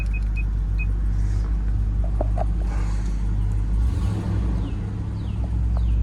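A car with 176,000 miles on it starts from cold and settles into a loud, steady low idle rumble that holds throughout, with faint clicks and whirs from the cabin and the air conditioning fan spinning up.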